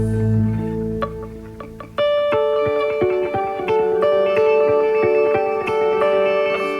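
An electric guitar plays picked notes through effects, with shimmering octave-shifted tones layered above each note and a lingering echo; no talking.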